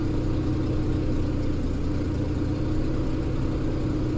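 A 2006 Mercury Mountaineer 4x4 with a 4.0L SOHC engine, which has an overheating problem, idling steadily just after starting, a constant mid-pitched hum and whir heard up close and unchanging.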